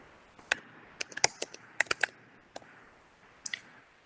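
Sharp mouse clicks in Illustrator while exporting a logo as PNG: about a dozen close, crisp clicks in irregular bursts, some doubled, over a quiet room with no talk.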